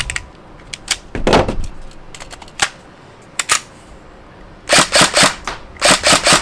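A Tokyo Marui NGRS MP5A5 airsoft gun fires sharp, close single shots, scattered at first, then several quick bursts of snappy reports toward the end, with quiet gaps between them.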